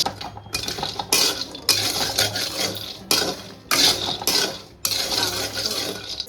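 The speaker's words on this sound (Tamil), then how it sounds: "ஸோ இது எல்லாமே போட்டு நம்ம ரோஸ்ட் பண்ண போகிறோம்" Almonds, walnuts and cashews are stirred in a pan, with repeated bursts of metal spoon scraping and nuts rattling against the pan separated by short pauses, close and clear with no talk.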